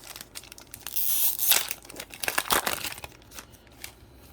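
A Pokémon card pack's foil wrapper crinkles and tears open up close, a loud burst of crackling early on followed by softer, scattered crinkles with no talking.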